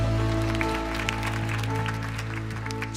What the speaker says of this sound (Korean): 주님 앞에 영광의 박수 올리며